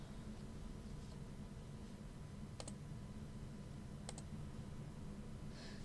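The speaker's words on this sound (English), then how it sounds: "No, I was typing on my keyboard." A computer keyboard is typed on during live algorithmic trading, with two faint, brief pairs of clicks over a steady low hum and hiss and no talk.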